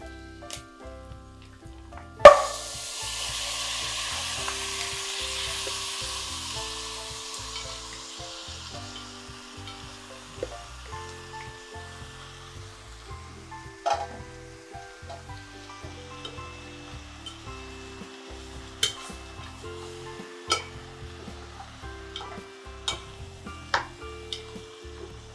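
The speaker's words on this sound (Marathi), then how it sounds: "आता मांस घालता." Pork meat hits a hot pan with a sharp thump and bursts into a loud, sustained sizzle that slowly fades, followed by intermittent stirring scrapes and clacks of a spoon against the pan, close up and without talking.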